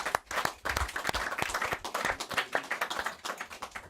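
A small audience gives a brisk round of applause to welcome a new doctor at a football club, a fairly close patter of hands clapping steadily for about four seconds with no talk over it.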